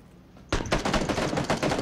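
Gunfire in PlayerUnknown's Battlegrounds: after a quiet moment, a loud rapid burst of automatic shots rattles on steadily and close for over a second.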